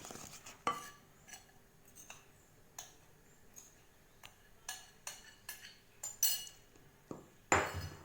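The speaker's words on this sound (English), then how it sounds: "Keep mixing until all the flour is mixed." A utensil knocks and clinks against a bowl while puff puff batter of flour and milk is mixed, giving irregular taps and scrapes at close range with no voices.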